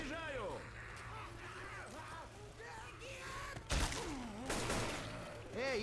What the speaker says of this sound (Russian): Ты стреляешь в меня!